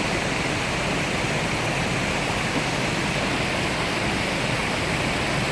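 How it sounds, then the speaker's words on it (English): Water tumbles over rocks into a pool beside an autumn-colored road, a steady, loud, unbroken rushing roar that holds without change and with no voices. "And there's the water falling down over the rocks."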